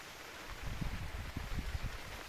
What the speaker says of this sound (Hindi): बारिश तेज, मौसम शाम का वक्त है और बारिश भी तेज।